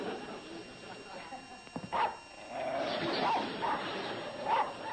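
A dog gives a few short barks and yips at moderate distance, scattered through a sitcom scene with people talking over it.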